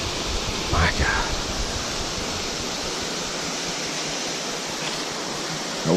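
At Nature Falls State Park, a waterfall pours in a steady, broad rushing roar that fills the whole scene, with a brief faint voice near the start.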